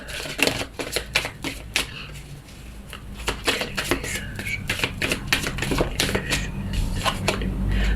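Tarot cards being handled and drawn, six taken from the deck, a close series of crisp flicking, snapping card sounds in irregular bursts throughout.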